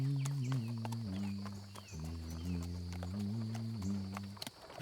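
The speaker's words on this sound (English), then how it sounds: "you hear the sound of a horse and cart approaching" A horse and cart approach with steady clip-clopping hooves, set against a sustained musical drone and a high hum, the hoofbeats continuous and moderately close.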